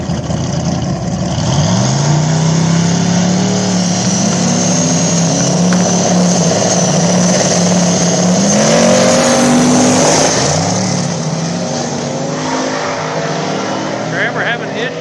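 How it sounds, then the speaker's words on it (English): Small tire drag race cars, a Mustang against a 240, roaring loudly down the track with engine pitch climbing through the run, heard under an excited announcer calling the race. "we got Josh Frimfrock in the Mustang taking on TC2 Trevor in the 240."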